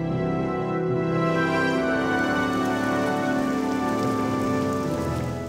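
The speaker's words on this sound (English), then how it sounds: "OpenMW now renders precipitation and weather-related particles such as rain, snow, and ash." Steady rain falls in the OpenMW game engine, a dense continuous hiss of drops on surfaces with no pauses and no voices.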